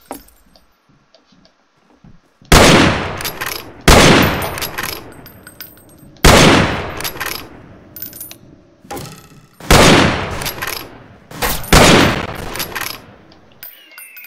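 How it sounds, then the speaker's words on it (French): Gunfire from a Wild West sniper video game comes in loud, sharp volleys, about five bursts separated by short pauses. Each burst cracks sharply and then rings away with metallic echoes. "qui me tire dessus là"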